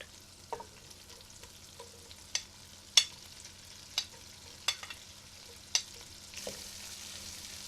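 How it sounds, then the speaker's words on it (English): Ginger, chilies and onions sizzle quietly in oil in a pot while a utensil stirs them, giving sharp periodic scrapes and taps about once a second over a faint, steady frying hiss. "Give them a stir around."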